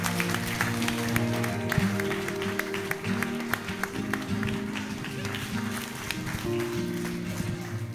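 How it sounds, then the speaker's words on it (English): Wedding guests applaud for the groom at a reception at The Ravenswood, a steady patter of clapping from a roomful of people, with some talk and murmuring mixed in. "round of applause for Connor, ladies and gentlemen"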